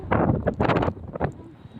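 Strong, gusty outdoor wind buffets the microphone in uneven roaring bursts, loud and close, while sand and soil are blown about.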